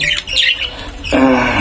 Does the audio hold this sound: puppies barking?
no